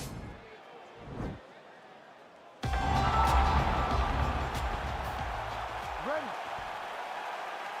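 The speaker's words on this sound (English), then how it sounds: "crowd getting excited as this fight gets underway" An arena crowd at a UFC heavyweight title fight bursts into a loud, sustained roar of cheering as the bout gets underway, following a quieter stretch with a few faint thuds.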